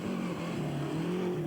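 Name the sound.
rally car approaching on a narrow road, Cyprus Rally 1993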